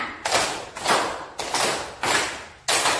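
An elementary classroom full of pupils claps a rhythm, six bursts of ensemble hand clapping in a steady, slightly uneven pulse, each a loud, dense smear of many palms with quick room decay.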